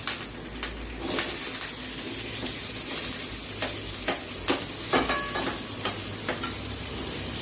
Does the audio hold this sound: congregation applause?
no